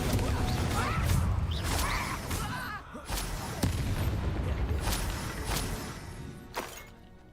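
Loud, dense burst of a Confringo blasting-spell explosion in a video game, a sustained crackling roar with several sharp booming impacts and crashes spread across the clip, with no one talking.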